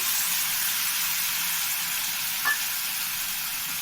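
Steady, loud sizzling of tomatoes frying in a pan for a Chennai-style tomato onion chutney, a continuous hiss with one brief sharper pop near the end and no voices.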